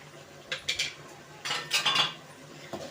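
A metal spoon scrapes and clinks against a pot while stirring shallot curry, in two short bursts with quiet gaps, close up and without talk.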